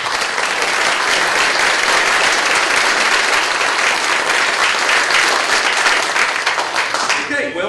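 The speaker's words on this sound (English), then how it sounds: "A round of applause." Sustained applause from the audience at a county Republican primary candidate forum, dense and loud for nearly eight seconds, tapering slightly at the very end.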